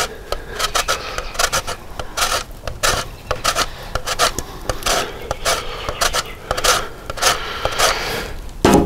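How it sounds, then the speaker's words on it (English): Two-year-old Parmesan cheese is grated over a plate, producing rhythmic, rasping scrapes in quick repeated strokes, close and fairly loud, with no talking. "We've got some 2-year-old Parmesan cheese that we're gonna grate on here real quick."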